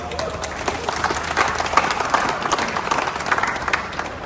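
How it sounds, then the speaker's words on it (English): An indoor crowd at a caravan showcase claps in a dense, steady round of applause that holds at an even level, with faint voices underneath. "Give yourselves a round of applause there, guys"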